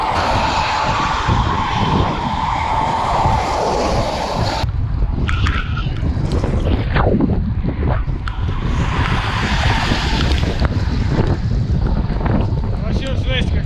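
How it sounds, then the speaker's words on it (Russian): Strong wind buffets a microphone during a bicycle trip toward Tashkent, a loud continuous roar with gusting rushes that ease briefly mid-way and then return at full force. "А то утром вот ветер сильный начался, потому что дождь пошел."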